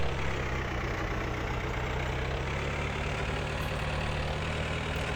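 Steady idle of an older tractor engine in Farming Simulator 2013, a continuous deep rumble with an even, unchanging throb, heard up close without any voices.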